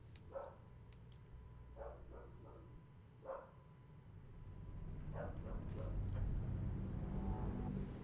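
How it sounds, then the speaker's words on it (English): Dog in Baldur's Gate 3 barking several times in short separate bursts, followed by a rising rumble of low background game noise. "Something has activated the dog."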